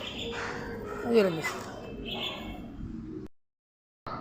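A common myna, a talking bird, gives a few short, close calls and chirps over background noise, then the sound cuts out briefly.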